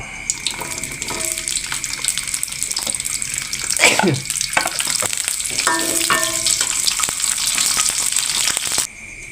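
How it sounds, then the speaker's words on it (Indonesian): Chili, shallots and tomato frying in a pan for shrimp paste sambal, a steady close sizzle and crackle throughout with occasional clinks and stirring scrapes, no talk. "Goreng cabai, bawang merah sama tomat buat bikin sambal terasi."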